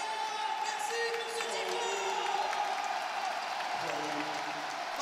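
Tournament crowd at a big Trackmania esports event cheering and applauding, a steady broad wash of clapping and voices with a few whoops, fairly distant, with a caster talking over it.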